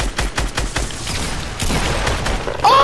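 Rapid gunfire in a first-person shooter video game, with a burst of quick shots followed by sustained loud firing and impacts, close and dense.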